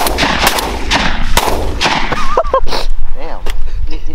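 Shotgun blasts during a mourning dove hunt open outdoors, several loud sharp reports in quick succession with excited voices shouting between them.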